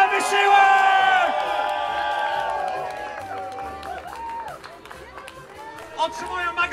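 A crowd at an outdoor strongman competition award ceremony cheers and claps briefly for third place, under an announcer's loud talk and whoops, then fades into scattered voices.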